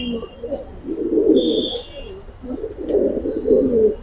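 Giribaz pigeons in an Old Dhaka loft give soft, low rolling coos in two bursts, with brief faint chirps above and a little background noise; fairly close and moderately loud.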